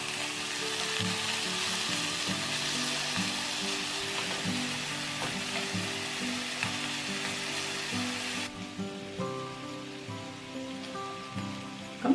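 Steady, loud sizzle of pork ribs frying in a little oil until golden, turned to brown both sides for Chinese-style braised ribs; the hiss drops somewhat partway through and carries on more quietly, with no talking.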